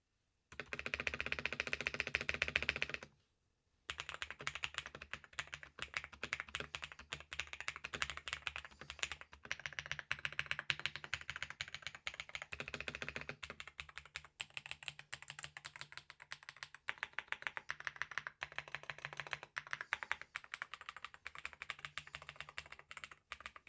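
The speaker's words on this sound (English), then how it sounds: "let's go ahead and see what the keyboard sounds like now" A modded £22 budget mechanical keyboard from AliExpress is typed on steadily up close, with dense, rapid clicky-thocky keystrokes, a brief pause after the opening burst, then continuous typing.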